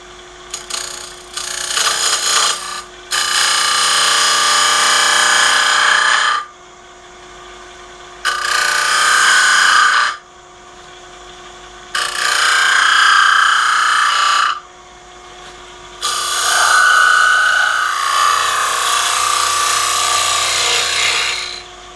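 A wood turning tool cuts into a small zebrano wood dish on the lathe in several loud, rasping passes, each lasting a few seconds. Short pauses separate the passes while a faint lathe hum continues underneath.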